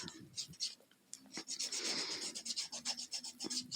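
Fingertips filed with the rough side of a nail file over a sink, a series of quick scraping rubs in close, uneven strokes, fairly faint, with no talk.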